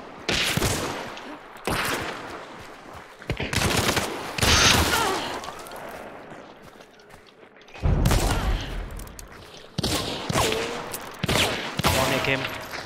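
Bursts of rapid gunfire in the video game Hunt: Showdown, in separate volleys with short quiet gaps, some sharp single shots, loud and close, with faint voices between.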